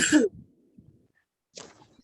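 A single sharp cough up close, then quieter throat sounds and a second softer cough trailing after a pause.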